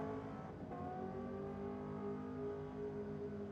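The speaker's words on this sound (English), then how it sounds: "Actually sounds like it's got a good set of mufflers on it too, Adam." A Holden VL car with mufflers idling and revving on the pad at Sydney Dragway, a steady droning engine note with smooth harmonics, heard at a moderate distance with no talk.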